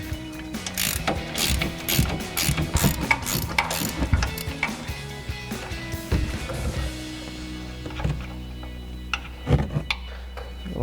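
A ratchet wrench works the shock nuts on a 2020-2026 Silverado 2500 during a leveling lift install, giving rapid clicking bursts up close with short pauses and a few metallic knocks near the end.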